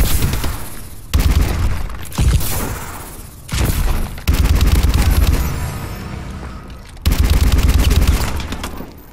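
Call of Duty: Advanced Warfare gameplay with dense automatic gunfire in repeated heavy bursts, punchy booming shots and brief gaps between volleys, loud and close throughout.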